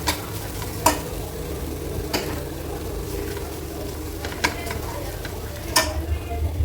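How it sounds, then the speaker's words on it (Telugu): Tamarind leaf egg curry is stirred in a pan over a constant close sizzle, with occasional distinct clinks and scrapes of a spoon against the metal. "ఇప్పుడు మళ్ళీ మూత పెట్టి ఒకసారి కలుపుకోవాలి."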